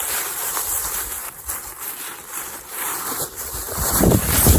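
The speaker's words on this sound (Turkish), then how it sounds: "işte şelale kısmı burası olsa gerek şelale kısmına da ulaştık" A waterfall spilling over travertine terraces gives off a steady, broad rush of falling water that swells louder toward the end, with wind buffeting the microphone throughout.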